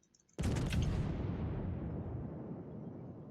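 A World of Warships battleship gun salvo fired at the Dunkirk, a single sudden booming blast that rolls into a long, loud rumbling decay lasting several seconds.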